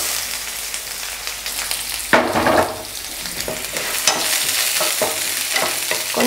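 Chopped onion sizzles in a pan with curry leaves and garlic for a cabbage stir-fry, a steady frying hiss broken by scraping stirs of a spoon, close and fairly loud.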